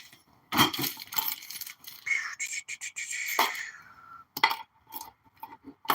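Metal Allen keys rattling and clinking as someone rummages through them during a Minarelli vertical motorized bike rebuild; bright jangles and scattered clinks come in bursts with brief quiet gaps, close and fairly loud.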